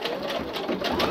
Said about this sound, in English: I love the old sewing machine.